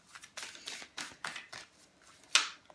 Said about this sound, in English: So we're going to shuffle once more